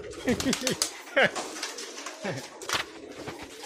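Pigeons in a pair cooing close by, soft repeated throaty coos with a faint flutter of wings in a quiet background.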